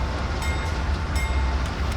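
A diesel locomotive leading a grain train on Marias Pass in Train Simulator 2019 rumbles at notch 2 throttle, a steady low engine drone with faint periodic clanks, continuous and fairly close.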